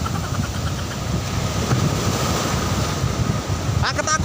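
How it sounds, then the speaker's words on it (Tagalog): Strong ocean surf rolls continuously onto Patar Beach in Bolinao, Pangasinan, a loud, dense wash of breaking waves with wind buffeting the microphone, and a brief voice near the end. "Lakas ang alon guys."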